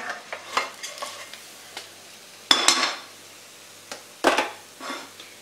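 Fried dhokla is shifted out of a kadhai onto a plate, with a series of close scraping and clinking strokes of a spoon or spatula against the metal pan, a few louder scrapes among softer ones, and no talking.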